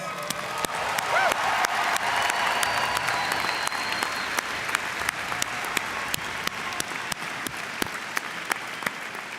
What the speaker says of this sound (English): Let's give the graduates another round of applause.